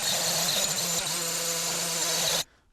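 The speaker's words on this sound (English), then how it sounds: "I have this high-speed die grinder thing" A high-speed die grinder works on brake parts during a brake job on an E90 BMW, a loud, continuous whine that holds steady for about two seconds and then cuts off abruptly.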